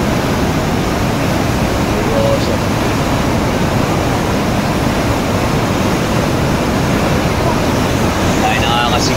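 Strong river current rushing beneath a bridge after high water, a steady loud broadband roar of churning water filling the whole stretch without letup.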